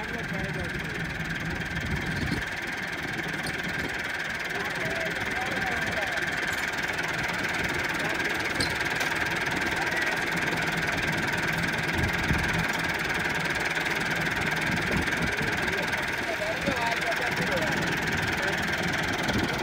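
A tractor engine, one with a broken bearing, idles steadily at close range, its low, mid-pitched rumble continuous and unchanging with a constant vibrating drone throughout.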